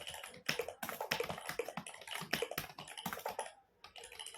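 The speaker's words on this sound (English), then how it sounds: "let me show you how it actually converts my membrane keyboard into a mechanical keyboard" Quick clattering keystrokes on a membrane keyboard made to sound like a mechanical keyboard, close and steady before the sound stops near the end.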